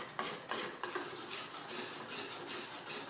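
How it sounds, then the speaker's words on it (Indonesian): A utensil stirs bika ambon cake batter in a bowl, giving a quick run of rhythmic scraping and clinking strokes against the side, close and fairly soft, with no talking. "Sekarang kita aduk lagi."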